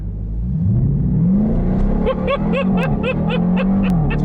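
A Dodge Durango Hellcat launches hard from a standstill, its engine roaring and rising in pitch through quick gear changes, loud and close, with a brief voice under the acceleration.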